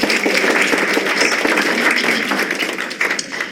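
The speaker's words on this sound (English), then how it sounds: "Can we give them another round of applause?" Audience applause at a human trafficking prevention education meeting. Dense, close clapping holds steady for a few seconds and tapers slightly at the end, with no voices.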